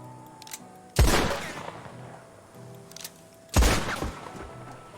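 Two loud, close gunshots ring out about two and a half seconds apart in the OlWestRP Western roleplay video game, each a sharp crack followed by a short decaying boom over low background ambience.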